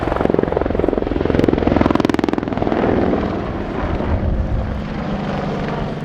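Army Air Corps WAH-64D Apache Longbow helicopter in a flying display, loud rotor thump and turbine roar passing nearby, rising to a pulsing peak before settling into a steadier, slightly more distant drone.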